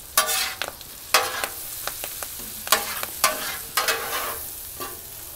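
Shrimp scampi frying on a Blackstone griddle, a loud sizzle with repeated sharp spatula scrapes in an irregular rhythm, close up.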